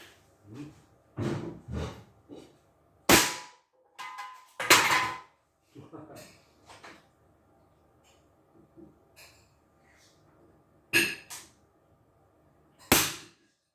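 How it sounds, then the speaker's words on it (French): Sharp gunshots crack out during an outdoor target shooting challenge, a few loud isolated reports spaced irregularly between quieter clatter and handling noises, with no talking. "Ça tire."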